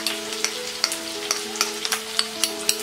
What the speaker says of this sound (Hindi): तेल गरम हो गया है। अब हम इसमें डालेंगे ये स्लाइस्ड अनियन, स्मॉल अनियंस या सांबर अनियंस